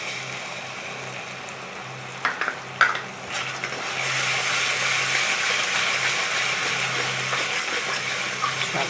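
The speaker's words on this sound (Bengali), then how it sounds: "সব দই দিয়ে একসঙ্গে ভালো করে আবার কিছুক্ষণ মশলার সঙ্গে কষে নেবো।" Soured curd and spices are stirred together in a hot pan for a fish curry, a soft wet scraping and bubbling with a few sharper clatters of the spoon early on, then a steady hiss.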